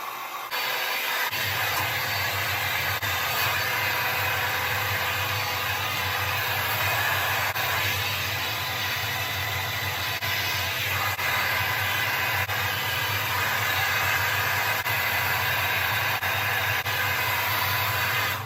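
A hair dryer with a diffuser attachment runs steadily while curly hair is dried, a loud continuous airy whoosh with a high whine that starts abruptly and holds unbroken throughout.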